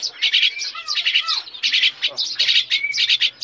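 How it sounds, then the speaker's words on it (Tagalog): Freshly unboxed lovebirds chirp and squawk close up, dense bright bursts of tweets that overlap almost continuously, loud and with no voices. "May mga lovebirds po."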